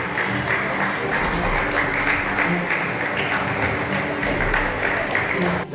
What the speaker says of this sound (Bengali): এবার সবাইকে জোরে হাততালি হবে।